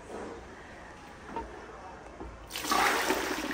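A toilet that is failing to drain after a major storm gives a faint gurgle, then a louder rush and bubbling of water toward the end, close by indoors.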